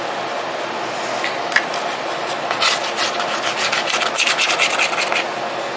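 An electric mixer whips black-tinted whipped cream in a bowl, giving a steady, moderate whirring rasp with uneven scraping swells toward the end.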